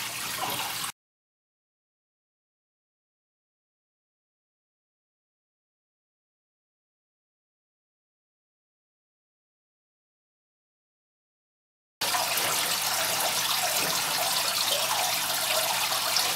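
An aquarium gravel siphon hose drains fish-tank water into a bucket with a steady rushing trickle, heard briefly at the start, then silence, then flowing again continuously.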